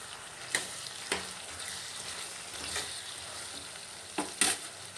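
Tomatoes and ginger garlic paste fry in a pan with a soft, steady sizzle, broken by a few sharp clicks and scrapes of stirring.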